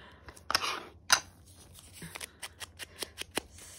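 Scissors snip through lined paper in a run of short crisp cuts, a few louder slices early on then quicker lighter snips, close up with no talk.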